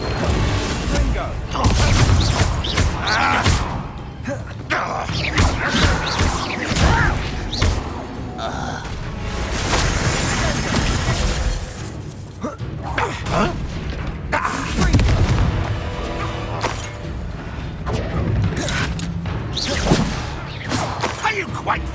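Confringo blasting spell explosions in the video game Hogwarts Legacy boom and crash repeatedly in dense, loud combat, overlapping thuds and blasts mixed with game music and shouted character voices.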